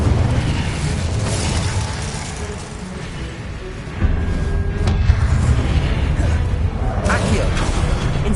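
The Incendio fire spell cast in Hogwarts Legacy on PS5 gives dense fiery booms and bursts over a constant roaring game soundscape, loud and close, with a voice underneath.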